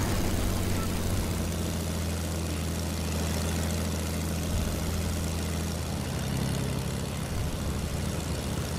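Steady low propeller-engine drone of an airplane in the Fortnite video game, a continuous loud hum with constant intensity throughout, no talking.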